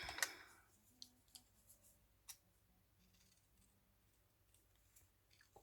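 Scissors snipping out small paper bird shapes for a spring craft project: a handful of sharp, separate clicks and snips, close and quiet, scattered irregularly over a near-silent background with a faint low hum.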